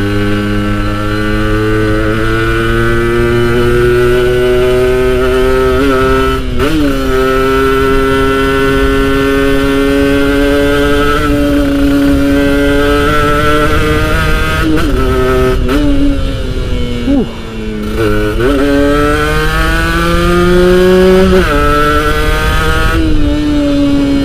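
A 2011 Kawasaki Ninja RR Special Edition two-stroke motorcycle riding at speed, its loud engine note rising and falling steadily through gear changes, with a brief dip around the middle and no talk over it.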